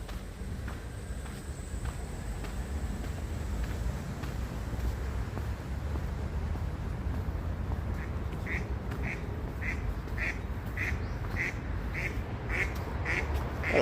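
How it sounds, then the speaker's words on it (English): Ducks beside a bridge in Takamatsu, Japan, give a regular series of short quacks in the second half, moderately close, over steady outdoor background noise and faint footsteps. "Hello, ducks."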